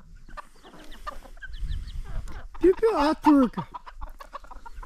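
Chickens cluck and squawk on a rural farm alongside ducks, with a few loud close calls in the middle and a voice speaking briefly over them.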